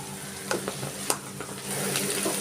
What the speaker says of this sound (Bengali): এবার একটা পেঁয়াজ কেটে রেখেছি সেটাও দিয়ে দিচ্ছি আমি অল্প একটু হলুদ দিয়ে দিচ্ছি